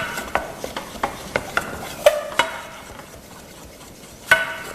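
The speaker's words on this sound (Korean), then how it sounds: "나무 주걱은 쉴 새 없이 움직여서 냄비 한 구석에서 루가 타지 않도록 주의를 하셔야 됩니다." A wooden spatula stirs a brown roux steadily in a pot, with repeated scraping and tapping strokes in an uneven rhythm and a faint sizzle underneath. Close and fairly quiet.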